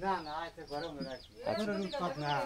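Chickens at a rural homestead coop on a remote river island cluck repeatedly, with close, busy overlapping calls and a short lull midway before the clucking picks up again.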